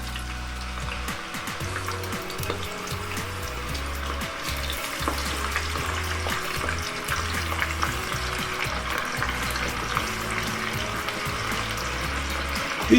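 Peeled, hand-cut potato chips dropped into hot oil in a cast iron pot, a steady close bubbling sizzle with occasional stirring and clinks, no talking.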